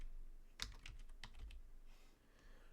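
Computer keyboard typing, a short quick burst of about half a dozen soft key clicks close by, followed by faint quieter taps, with no talk.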